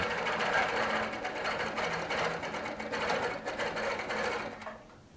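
A Baby Lock sewing machine with a couching foot stitches hand-made cording onto a quilt, running a fast, steady, close whir that cuts off just before the end.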